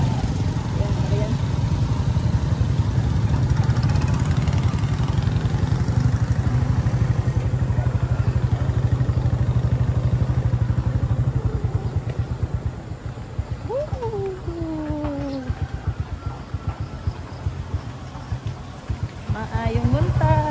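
A motorbike engine drones steadily and loudly under wind rush while riding in Maasim, Sarangani Province, easing off slightly midway, with faint voices in the mix.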